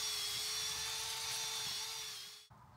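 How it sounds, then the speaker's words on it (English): A power drill fitted with a garden auger bit whines steadily at high pitch, close and continuous, digging a post hole in soil, then cuts off abruptly near the end. "I'm using my garden auger bit that goes in my drill, which makes it really quick and easy."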